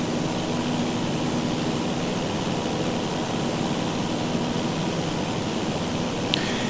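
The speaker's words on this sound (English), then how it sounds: "I'm flying the Cessna that's included with 2024." Steady broadband drone of a Cessna's engine and airflow in Microsoft Flight Simulator 2024, unbroken and constant throughout with a faint low hum, no talking.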